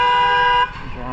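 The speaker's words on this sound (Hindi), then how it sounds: "जबरदस्ती को हॉर्न बजाते हैं साले।" A car horn blares a loud, steady honk for just over half a second, then cuts off, leaving traffic noise behind.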